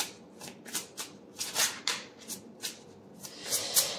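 Oracle cards shuffled by hand in a series of close riffling bursts, each a soft papery rush, repeated roughly every half second with short gaps between.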